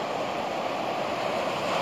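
Ocean waves wash steadily onto a beach in a dense, continuous roar of surf, with wind buffeting the microphone throughout and no voices.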